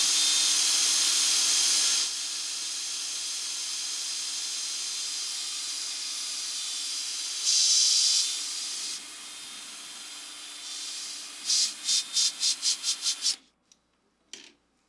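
Wine being stirred to degas it gives a loud steady hiss of foaming, with a brighter surge midway, then a rapid series of rhythmic pulses before the sound cuts off into near silence.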